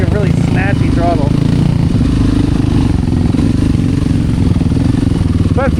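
A fuel-injected enduro motorcycle engine runs loud and close on a trail, a constant heavy thrum with throttle blips and revving, while a rider talks over the engine noise.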